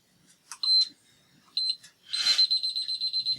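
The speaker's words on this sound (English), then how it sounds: "Let me set my timer." An electronic timer gives a few short, high beeps, then breaks into a rapid run of repeated beeps. It is fairly quiet and heard alone, without talk.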